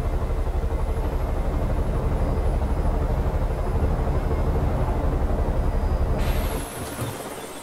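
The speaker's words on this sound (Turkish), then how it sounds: "Evet, helikopteri buraya indirmeyi başardım." Helicopter in the Far Cry 5 video game flying and touching down, a loud steady rotor and engine drone that holds throughout, then drops away sharply near the end as it lands.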